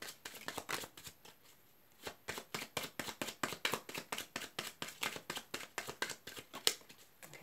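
A deck of cards is shuffled during a card reading, a quiet run of quick, rhythmic riffling bursts with a brief pause near the start.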